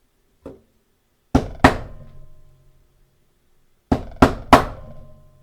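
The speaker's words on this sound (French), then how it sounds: "à l'aide d'un simple maillet et d'un emporte-pièce, tu réitères ça sur l'intégralité des pièces" A mallet strikes a steel hole punch through leather scraps: a faint tap, then two sharp knocks, a pause, and three more ringing blows in quick succession, close and clear with no voices.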